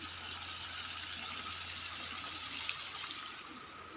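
Running water at a water filtration plant gives a faint, steady rushing hiss with a low constant hum beneath it, continuous and unbroken throughout.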